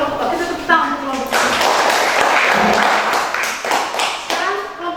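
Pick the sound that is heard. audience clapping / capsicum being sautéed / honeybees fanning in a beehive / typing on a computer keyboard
audience clapping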